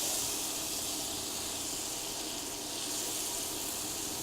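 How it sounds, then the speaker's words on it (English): Butter melting in a pan on a stove at medium heat, a low steady hiss and faint sizzle running evenly throughout, quiet and close with no voices. "We need to melt the butter."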